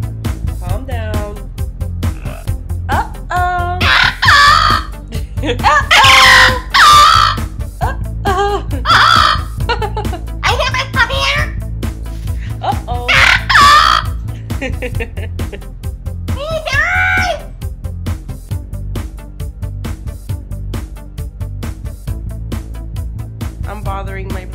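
A yellow-naped amazon parrot squawks loudly in several harsh bursts that come and go, mixed with voices talking nearby.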